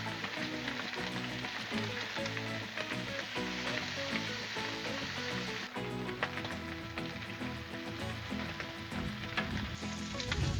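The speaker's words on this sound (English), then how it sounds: "we got most of this bacon cooked up" Bacon sizzles loudly and continuously on a Blackstone flat-top griddle, a dense crackling hiss with fine pops throughout and no voices.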